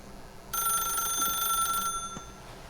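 A telephone rings in The Stanley Parable video game, one steady electronic ring of about one and a half seconds that stops, then the quiet room ambience continues.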